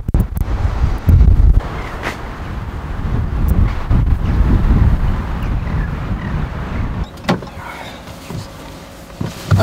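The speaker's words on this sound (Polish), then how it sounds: "ale no wieje dosyć mocno" Strong wind buffets the microphone outdoors during a mini off-road drive in Poland. Heavy low gusts rumble loudly and unevenly for most of the stretch, then ease near the end.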